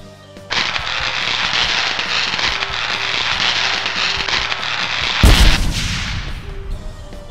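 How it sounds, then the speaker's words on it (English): Sustained crackling, hissing bursts fill the air, then a sudden loud boom near the end followed by a sizzling decay, like fireworks going off in a LEGO City police film. "I like fireworks."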